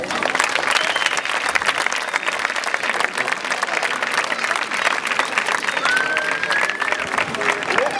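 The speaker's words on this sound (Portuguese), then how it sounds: "agora sim, um forte aplauso para Storytellers" Sustained audience applause fills a fashion show runway event, a dense steady clatter of many hands with crowd noise mixed in, holding at an even level throughout.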